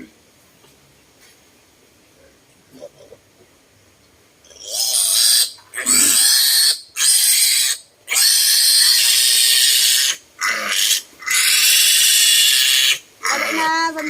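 A piglet being castrated lets out loud, shrill squeals in a string of close bursts with short gaps, after a quiet opening of soft handling noise.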